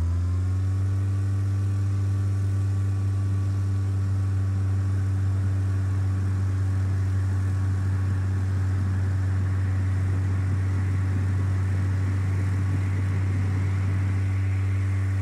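A simulated aircraft engine in Flight Simulator 2004 drones steadily with a deep, even hum, growing louder and rougher partway through as the throttle is pushed up for takeoff. No one speaks.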